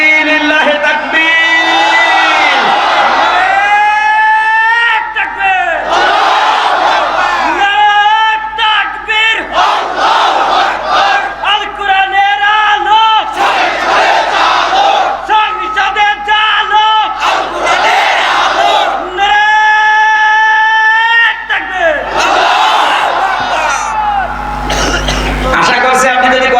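Large crowd at an outdoor Islamic waaz gathering in Jhenaidah, Bangladesh, roaring Allahu Akbar back after a takbir call, loud sustained massed shouts in repeated waves with amplified voices throughout.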